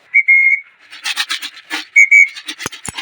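Short, steady whistled notes from a person, repeated a few times, mixed with rustling and a couple of sharp taps nearby.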